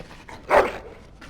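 A dog in the video game Dragon Age Origins gives a single short bark, fairly close and distinct against quiet background ambience.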